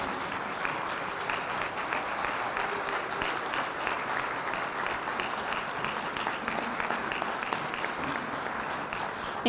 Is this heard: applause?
yes